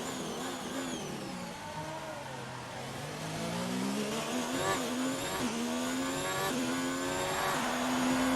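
A Formula 1 race car engine screams in F1 2019, revving up through the gears with rising whines and shift drops, loud and close throughout.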